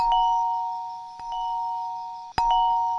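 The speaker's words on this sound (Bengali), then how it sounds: "সকালবেলা ঘুম ভাঙতে না ভাঙতেই কলিং বেল বেজে উঠেছে।" A doorbell chimes in a quiet room with sustained two-tone ding-dong notes, struck again at the start, near 1.2 seconds and more loudly around 2.4 seconds, each ring ringing out clearly with no one talking.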